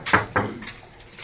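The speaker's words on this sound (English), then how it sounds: "the sound of knocking comes from offstage" Two quick knocks on a door offstage during a stage play rehearsal, close together and fairly loud, followed by a quiet room.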